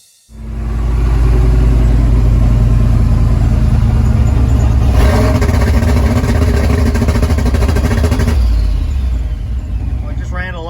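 A boosted LS engine sits on a plug-and-play two-step launch control at 2500 RPM, a loud, close, steady popping rumble that holds for several seconds, then eases slightly near the end.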